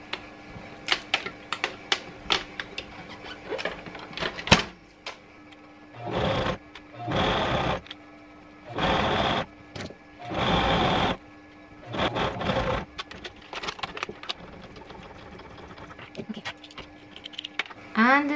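A sewing machine hems the folded-under edge of a homemade dress in several short, loud bursts of stitching, with quieter handling sounds and background noise between the runs.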